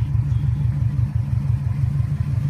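A 2005 Subaru Impreza WRX STi idles with a low, throbbing exhaust burble through a catalytic converter and muffler, steady and moderately loud, with no talking.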